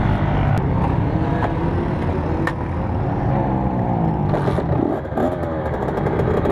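A Kawasaki KX65 dirt bike engine revs loudly and continuously on a race track at Adams, close up with steady high-pitched buzzing and a few rising and falling throttle changes, with some wind and clatter.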